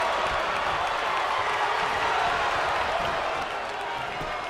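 A wrestling arena crowd in WWE 2K22 roars in a dense, steady wash of chanting and cheering that holds at a constant level, easing off slightly near the end.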